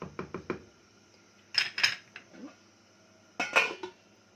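A spoon knocks and scrapes against a pot of pasta cooking with sausage, several quick taps at first, then two louder bursts of clattering stirs, sparse and fairly quiet, with no voices.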